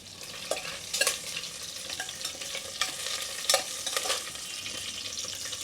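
Red chilli and curry leaves fry in hot oil with a continuous crackling sizzle, broken by several louder stirring scrapes at an uneven pace; near and fairly quiet, with no voices.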